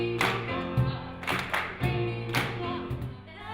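Hand clapping and foot tapping keep a steady beat along with live music, a few sharp claps evenly spaced over the melody at moderate volume.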